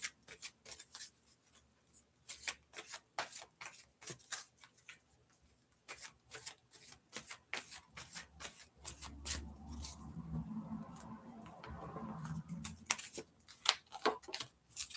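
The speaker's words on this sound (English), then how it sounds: "Let's have a look at the oracle cards quickly. Bear with me, giving them a shuffle." Oracle cards shuffled by hand at a tarot reading, a close sequence of soft irregular card riffles and slaps, with quiet pauses between bursts and no talk over them.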